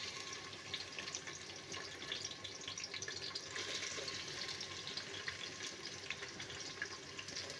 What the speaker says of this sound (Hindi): हमारा तेल गर्म हो चुका है तो बिस्मिल्लाह पढ़कर हम इसमें प्याज डालते हैं।